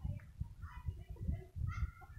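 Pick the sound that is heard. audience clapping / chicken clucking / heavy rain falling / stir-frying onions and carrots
chicken clucking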